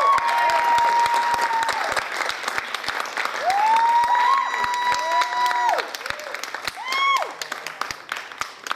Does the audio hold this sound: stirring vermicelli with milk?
no